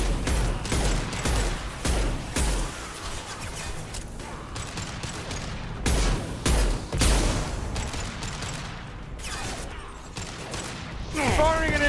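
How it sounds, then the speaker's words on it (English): Rapid gunfire and a heavy impact shot ring out in a Mass Effect 2 firefight against a Vorcha gang on Insanity difficulty, with dense overlapping bursts throughout and a voice talking now and then. "Firing an impact shot."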